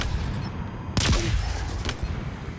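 Burst of gunfire in Halo Infinite, a loud volley near the one-second mark with a second shot shortly after, over steady game ambience with no talking.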